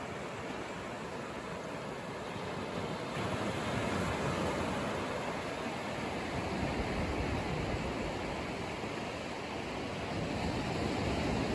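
Sea waves wash steadily onto the beach at Ubatuba on an overcast day, a dense, continuous roar of surf with some wind noise on the microphone and no talking.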